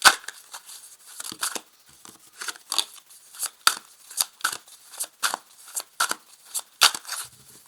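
Tarot cards are handled and cut, producing a string of crisp, close snapping and riffling sounds in irregular quick bursts, fairly quiet with no talk.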